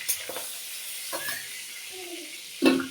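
Fish frying in oil gives a soft sizzle broken by a few stirring scrapes and clinks, ending with a louder clatter near the end.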